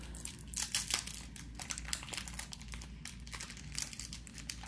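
A 1992 football trading card pack wrapper being torn and crinkled open up close, quick irregular crackles and rustles, fairly quiet with no talking.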